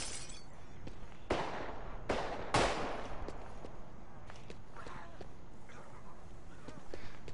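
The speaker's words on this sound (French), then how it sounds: "ça tire pas loin là quand même" Nearby gunshots, a few sharp loud cracks in quick succession followed by fainter scattered pops, with people talking over them.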